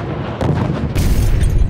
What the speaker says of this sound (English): An explosion at a Bloomington Islamic Center caused by an improvised explosive device.